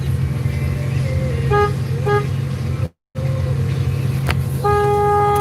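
A truck horn blasts over a steady engine rumble: two short toots, a brief drop-out, then a longer sustained honk that holds to the end, loud and close.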